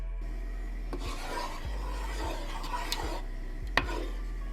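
A spoon or spatula scrapes and rubs through thick chicken parmesan sauce in a pot, in slow repeated strokes, close and steady over a low constant hum, with no one talking.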